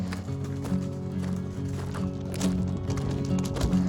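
Donkey hooves clip-clop steadily on hard ground during a hike in Samaria Gorge, Crete, a rhythmic series of knocks over a low droning background.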